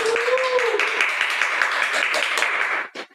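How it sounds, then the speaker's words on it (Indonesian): A studio audience applauds a podcast guest, steady dense clapping at moderate level for about three seconds, with a voice briefly heard over the start before the applause cuts off. "Tepuk tangan dulu untuk narasumber kita hari ini."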